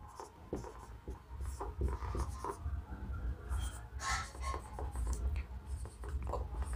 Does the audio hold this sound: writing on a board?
yes